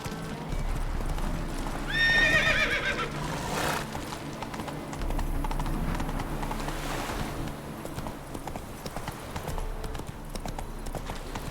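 Horse hooves clip-clop along in The Witcher 3, and the horse gives a clear whinny early on. Steady hoofbeats carry on at moderate volume under ambient game sound.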